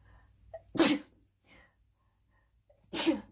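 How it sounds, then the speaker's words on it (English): Two sharp sneezes about two seconds apart, close and loud, with quiet breathing in between. "Hold on, I gotta sneeze."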